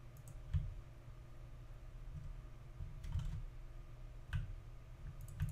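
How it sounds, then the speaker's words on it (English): Rapid computer mouse clicks during a point-and-click escape game, crisp and close, in irregular bursts over a low background hum. "I'm clicking around and stuff"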